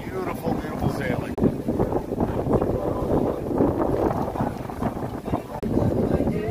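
Sailboat heeled over hard and running at about 8 knots toward Farmakonissi, with steady wind roar and rushing water noise throughout, close and continuous, while a person talks over it.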